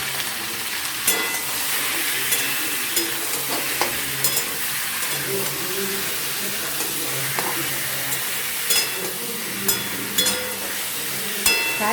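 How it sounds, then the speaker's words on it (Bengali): Chicken pieces fry in a pan for a home-style chicken kosha, a steady loud sizzle running throughout with occasional stirring clicks and scrapes. "সামান্য ফ্রাই করে নেব"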